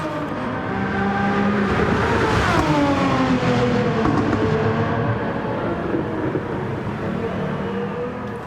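A Jaguar F-Type with a 700 build races in Gran Turismo, its engine droning loud and constant, the pitch climbing and sweeping through gear changes with no voices over it.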